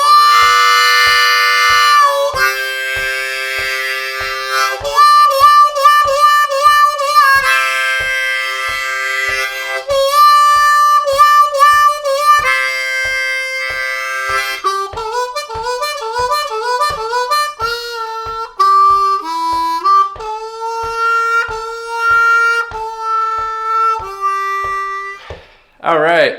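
A song played on a C harmonica, a loud close melodic line of bent and clean notes over a steady regular beat, continuing for nearly half a minute with no talking.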